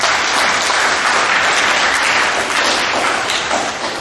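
A school awards assembly crowd applauds a middle school team, dense steady clapping filling the room at high volume throughout, tapering slightly at the end.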